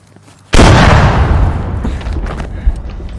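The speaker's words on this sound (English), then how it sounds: "watch the tank blast" A tank blast in the military shooter Squad lands as one sudden, loud boom that rolls into a long, rumbling decay lasting several seconds.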